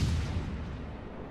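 Naval guns fire in World of Warships: Legends from the legendary cruiser Alaska, a deep, booming report that decays into a rolling low rumble, fairly quiet and without speech.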